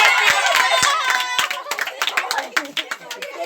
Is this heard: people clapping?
yes